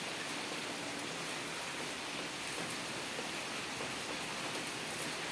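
Heavy rain pours steadily onto a muddy roadside area, a dense, even hiss of falling water holding at the same level from start to finish with no voices.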